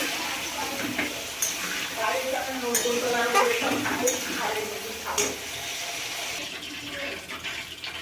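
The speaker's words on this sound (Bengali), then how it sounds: "আলুগুলো ভেজে নিচ্ছি" Potatoes fry in hot oil in a pan, crackling and sizzling steadily, with occasional scraping and stirring sounds mixed in.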